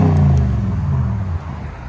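A 2020 Toyota Tundra 5.7L V8 with a Dirty Deeds exhaust system revs loudly up close, a low throaty rumble that settles back down after a moment.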